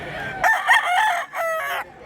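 A single loud, close crow from a big rooster, drawn out over about two seconds, at Mantalungon, Barili in the Philippines.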